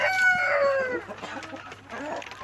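KUB chickens, including a KUB cross rooster and hens with yellow legs, at a village chicken breeding coop: a rooster crows loudly and nearby, followed by soft scattered clucking.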